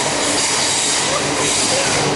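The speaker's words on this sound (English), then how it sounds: "Jump on that bullet train and get ready. Bullet train is coming, we need to go catch it." A Japanese bullet train rushes past at close range, a dense, loud, continuous roar with a hissing rail and wind wash throughout.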